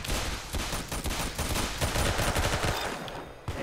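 Rapid automatic gunfire in the Roblox shooter Arsenal, a dense continuous spray of loud shots with a steady rattling rhythm that barely pauses, heard alone without talk.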